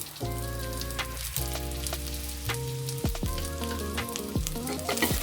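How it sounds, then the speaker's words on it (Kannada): Spices frying in a pan for village-style horse gram bassaru, a soft steady sizzle broken by stirring scrapes and occasional pops, close and alone. "ಇದಾಯಿತು, ಎಲ್ಲ ಫ್ರೈ ಆಯಿತು."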